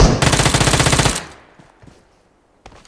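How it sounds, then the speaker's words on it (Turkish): A bot in a PUBG game fires a rapid automatic burst, loud and close, lasting about a second before cutting off into quiet with a faint trailing clatter. "Bak şimdi bot nasıl vuracak?"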